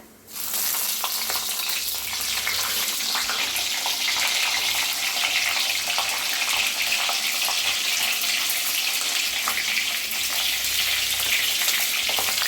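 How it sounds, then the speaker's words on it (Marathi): Green chillies dropped into hot oil with crackling cumin seeds, giving a loud, dense, steady sizzle and hiss that bursts in at the start and holds, with no voices. "जिरं चांगलं तडतडायला आले तर त्याच्यातच टाकूया मिरच्या"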